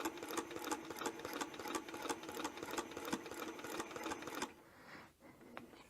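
A sewing machine stitches a quilted table topper in a fast, steady mechanical whir with rapid needle ticks. It runs close and continuous for about four and a half seconds, then stops, leaving faint handling sounds.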